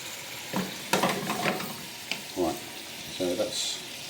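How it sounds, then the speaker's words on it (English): Garlic and parsley sauce reducing in a pan, bubbling and sizzling with several distinct stirring scrapes and splutters in short bursts against a quiet background. "so that's reducing down nicely"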